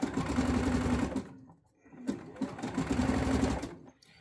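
A sewing machine back tacks along waistband elastic in close, loud bursts of rapid stitching, stopping briefly around the middle before running forward again and halting at the end.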